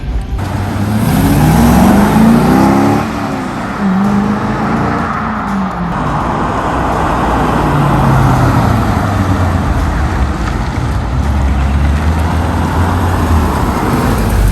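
A 1997 Chevrolet Corvette C5 on a test drive, its engine droning steadily from inside the car with rising and falling revs, wind and road noise filling the background throughout.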